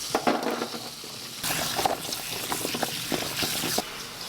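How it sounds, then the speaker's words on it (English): Tap water splashes onto carrots and potatoes being rinsed in a kitchen sink, an uneven close hiss and patter that swells louder partway through as the vegetables are handled. "I'm gonna go rinse these, and I'm gonna go ahead and rinse my potatoes while I'm at it."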